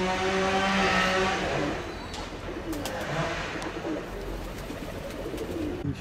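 Pigeons are tossed into gusty wind, with soft cooing and flutters over steady wind noise and a car passing in the background.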